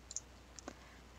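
A mouse clicks once on a checkbox for enabling Weather Underground sharing in AcuRite PC Connect software, a soft, close click standing alone against faint background hiss, with a few tiny ticks nearby.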